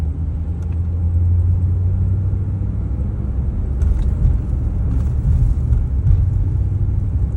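A 1977 Chrysler New Yorker drives along with a steady low engine rumble and road noise from inside the cabin, the engine note easing slightly as it shifts into second gear.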